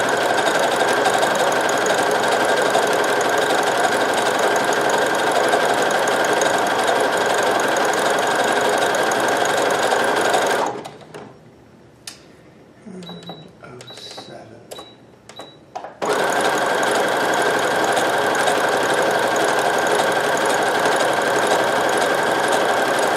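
Brother CP7500 sewing machine stitching, a steady loud mechanical whir running continuously, stopping for several seconds with small clicks and taps, then resuming at the same pace.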